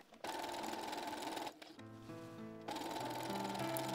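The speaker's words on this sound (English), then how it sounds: "So I put in my two lines of gathering stitches as per usual." A sewing machine runs gathering stitches along skirt panels for a 1950s-inspired Christmas dress. The stitching is steady and close, with a short pause partway through before it resumes. No voices.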